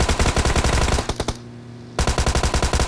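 Automatic rifle fire from PUBG Mobile rattles loud and close in fast, steady bursts, breaks off for about half a second, then resumes with another rapid string of shots.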